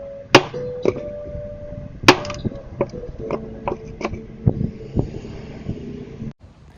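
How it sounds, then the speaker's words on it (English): Sharp hammer blows strike a wooden block at an uneven pace, each a hard knock with a brief ringing tail, about a dozen hits in total. "every time I hit it with a hammer, it'd fall over"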